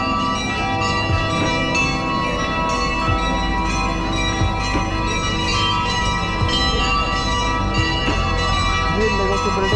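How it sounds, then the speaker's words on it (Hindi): Bells ring at six o'clock in Chinatown, London, mixed with steady street crowd noise and music, a continuous busy outdoor wash with faint voices underneath. "वो घंटियाँ ऊपर आप देख रहे हैं वो सारी बज रही हैं।"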